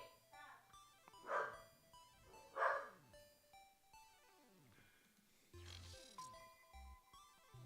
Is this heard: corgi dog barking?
yes